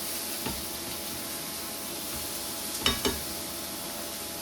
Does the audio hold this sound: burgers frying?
yes